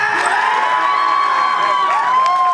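Convention audience at an anime expo debate cheers loudly, with high whoops and shouts from a packed room, a short continuous burst of crowd noise with only faint clapping mixed in.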